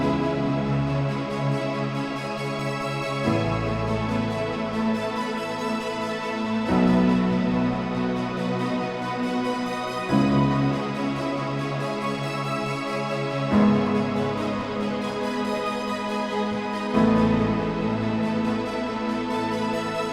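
A keyboard patch layers piano and a bright pad, with filter cutoff and mod wheel fully up, driven by an arpeggiator. Steady rippling chords change every few seconds, alone with no talking.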